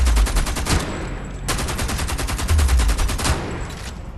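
Rapid automatic gunfire from a gun in the video game Homefront: The Revolution, two sustained loud bursts of evenly spaced shots separated by a brief pause, with heavy low-end thumps.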